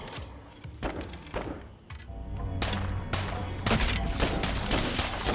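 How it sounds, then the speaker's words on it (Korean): Rapid bursts of gunfire from the zombie survival game State of Decay 2, repeated volleys and thuds close and loud, continuing steadily through the stretch with no talk over them. "이야 딱총 열심히 쏜다"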